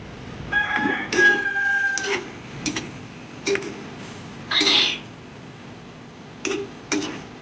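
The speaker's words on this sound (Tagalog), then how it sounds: "ang ingay ng mga manok guys" Chickens clucking and crowing nearby in a Bisaya village yard, with several short separate squawks and a drawn-out crow near the start, all spaced out over quiet background.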